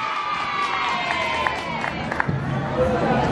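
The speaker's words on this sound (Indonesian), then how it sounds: "mari kita beri tepuk tangan yang meriah sekali lagi untuk Sasta Aisyah Pramesti." A crowd cheers and shouts at a Hari Santri speech contest, a steady, fairly loud mass of voices with a few sharper bursts and a faint tonal hum running underneath.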